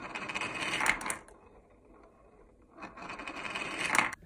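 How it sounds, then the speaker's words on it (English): Marbles roll and rattle around a 3D-printed gravity well dish fed by a hand-cranked knob, heard as two close, swelling bursts of rolling clatter with a quieter lull between them. "As you crank the knob on the side, it drops marbles onto the dish and they just go round and round and round."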